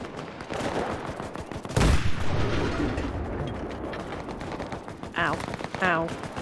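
Rapid gunfire crackles through a World War II firefight in the shooter Enlisted, with a sharp loud burst early on and continuous shots and mechanical clatter afterward, along with a couple of short tonal cries near the end.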